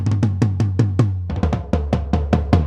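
A drummer strikes toms in a quick, even sequence, each hit ringing with a short boomy tail, the pitches shifting partway through; no voices.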